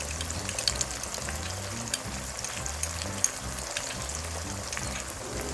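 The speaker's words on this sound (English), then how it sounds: "Stir and let it simmer for a while." A sauce of vinegar, soy sauce, oyster sauce and tomato sauce simmers in a pan with a soft, continuous sizzle and bubbling, dotted with small pops and crackles, close by and fairly quiet.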